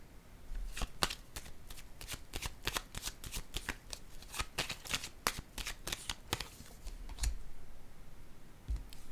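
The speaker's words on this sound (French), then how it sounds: "je vais déposer une carte sur celle-ci" Playing cards riffle and snap in a long run of quick, sharp shuffling bursts during a tarot-style card reading, with a couple of louder placements near the end; no voices, close and crisp.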